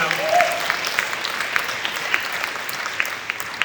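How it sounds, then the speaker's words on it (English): An audience claps for a mentoring program and its mentors, a dense round of applause that swells at first then thins to scattered claps, with a brief voice at the start. "let's give a round of applause to the Ateapi program and all the mentors through the years"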